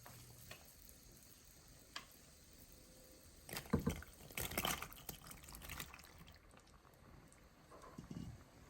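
Penne pasta tipped into a pot of boiling water, a few rattling splashes and clatters over a quiet bubbling hiss, close and fairly soft, no talking.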